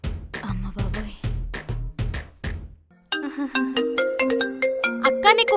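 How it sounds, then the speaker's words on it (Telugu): A mobile phone ringtone plays loud and close: a bright, repeating melodic tone pattern that follows a few seconds of other percussive music, with no talking over it. "అక్క నీకు ఫోన్ వస్తుంది."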